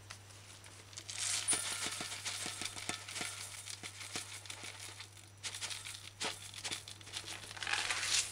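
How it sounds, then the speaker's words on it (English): Two cups of old-fashioned oats being measured and poured into a container give a faint, close rustling patter with scattered light ticks and crinkles, rising and falling in small bursts. "measure and add 2 cups of oats. I like to use old-fashioned oats."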